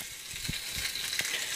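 Bacon frying in a pan, a steady close crackling sizzle with a few soft knocks and spatula touches scattered through.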